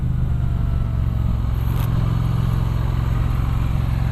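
A 2017 Triumph Street Twin 900 twin-cylinder motorcycle engine drones steadily while riding, with a strong low rumble and a constant mechanical thrum, close and continuous with no talk.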